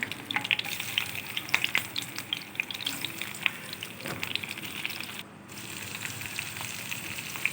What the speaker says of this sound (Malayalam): കറിവേപ്പിലയും ചേർത്ത് ചിക്കൻ പീസ് ഇടാനേ